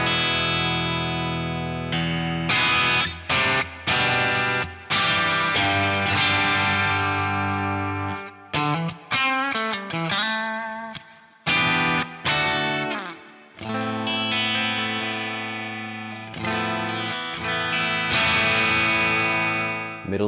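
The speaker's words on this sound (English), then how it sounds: "So this is the bridge pickup." A Harley Benton Telecaster on its bridge pickup plays a heavily distorted metal tone, with chugging chords and sustained notes that cut off in short stops, close and loud, with no voices.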